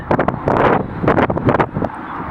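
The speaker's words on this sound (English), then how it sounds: "It's proper windy right on the end of it here, so I hope you can hear me clearly." Loud, gusty wind buffets the microphone in uneven rumbling bursts at a lakeside, close and continuous throughout.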